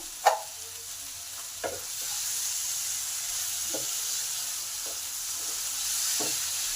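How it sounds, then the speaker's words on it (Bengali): Spices and tomatoes sizzle in a pan as they are sautéed, a steady broadband fry hiss running throughout with a few sharp clinks of a spoon stirring against the pan; no one speaks. "এটাকে কষতে হবে ততক্ষণে টমেটোগুলোও নরম হয়ে যাবে"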